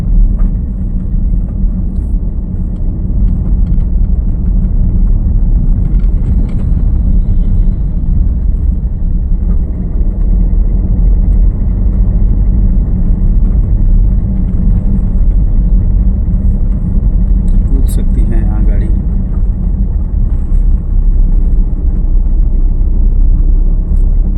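A car engine drones loud and constant with a deep rumble from inside the cabin during a driving lesson, where a gear fails to take the load; no speech is heard.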